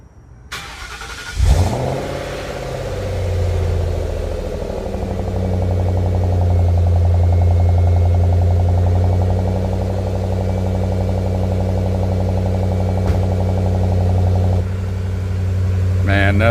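A Ford Mustang GT's 4.6-litre four-valve V8 cranks and catches after sitting unused for weeks, then settles into a loud, steady, close idle with a deep even rumble that holds to the end.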